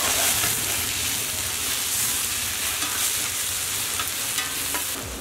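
Sliced onions frying in hot oil with ginger garlic paste in a home kitchen pan, a dense continuous sizzle with light stirring scrapes, close and loud with no talking.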